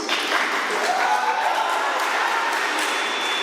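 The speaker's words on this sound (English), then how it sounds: "Round of applause for him, please." An audience at a national elections political forum claps in a steady, moderately loud patter that holds evenly throughout, with a faint trace of voices mixed in.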